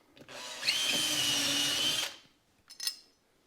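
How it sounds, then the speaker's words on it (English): A power drill whirs steadily for about two seconds while pre-drilling holes for a Chamberlain garage door opener bracket, then cuts off, followed by a brief quieter burst. "So I'm going to pre-drill these."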